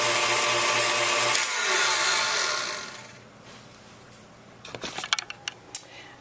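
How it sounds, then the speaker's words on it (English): KitchenAid stand mixer with the whisk attachment beating egg whites, a loud steady motor whir that stops partway, followed by a few clinks and handling knocks. "I'm using the whisk attachment on my KitchenAid mixer."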